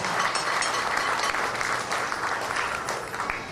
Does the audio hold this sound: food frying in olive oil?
no